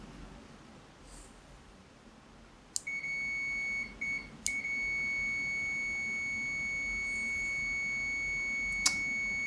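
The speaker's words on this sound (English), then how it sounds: "Getting a double beep a lot of the time." A Zoyi ZT-C4 multimeter beeps on continuity test: a short blip, then a steady electronic tone that drops out and restarts before holding solid, with a brief click near the end and no talk.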